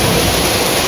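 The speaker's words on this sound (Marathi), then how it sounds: "एकदम जोरात पाऊस पडतो" Heavy rain from a sudden windy monsoon storm in a Konkan village makes a loud, dense, unbroken roar that fills the whole brief moment.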